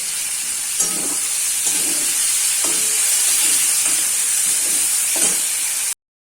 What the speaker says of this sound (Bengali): পেঁয়াজটা ভাজার জন্য